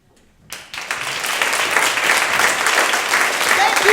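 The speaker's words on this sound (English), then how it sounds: "Give him a loud and wonderful round of applause." An audience at a talent show breaks into applause after a performance, with the clapping swelling quickly into a loud, sustained round.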